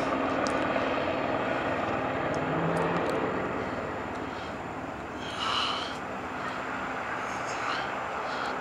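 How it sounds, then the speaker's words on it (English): A state trooper police helicopter drones overhead with a steady engine roar and rotor rumble, fairly loud throughout, with people talking faintly beneath it. "It looks like the state trooper's helicopter,"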